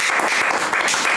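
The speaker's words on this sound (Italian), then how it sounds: "Un applauso per Raffaele Pio Balzano." A short, loud burst of dense clapping from a group of Napoli fans during a live match reaction, filling the moment without speech.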